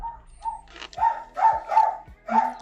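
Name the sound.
dog barking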